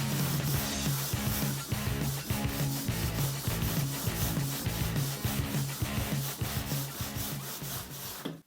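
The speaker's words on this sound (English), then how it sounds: "This is 40 grit, so it should chew through the styrofoam pretty easily." Vigorous, rhythmic scraping of 40 grit sandpaper on styrofoam, fast back-and-forth strokes with a gritty rasp, close and continuous.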